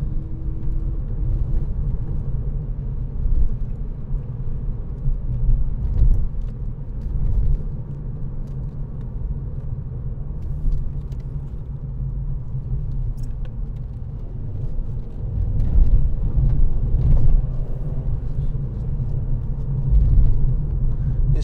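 A 2017 Volkswagen Scirocco 1.4 TSI BlueMotion Tech GT drives through its gears, its engine a steady low rumble inside the cabin that swells and eases as it pulls through a second-gear corner.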